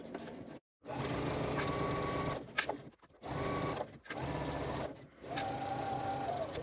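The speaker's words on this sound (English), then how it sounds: "Using a shorter stitch length and back stitching," A sewing machine runs in several close, steady bursts with brief stops between them, stitching a seam on a crossbody bag with a short stitch length and back stitching at the ends.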